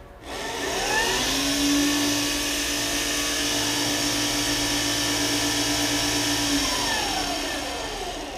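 A 36V 1000W brushed electric bicycle motor kit spins up at full throttle, whining loud and steady at a high pitch for several seconds before winding down, with no talking.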